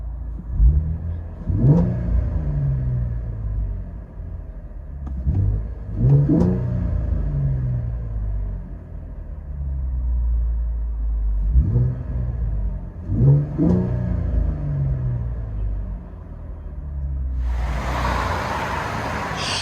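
Inside a 2012 Chevy Camaro RS V6 fitted with an MBRP cat-back exhaust, the engine rumbles and revs up repeatedly with rising pulls as the car accelerates, followed by steady road noise and a final burst of wind or rush.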